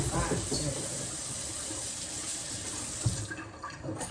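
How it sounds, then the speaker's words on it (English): Carrots washed for homemade chicken soup under a running kitchen tap, a steady close rush of water with light splashing throughout. "we're gonna give these carrots a wash"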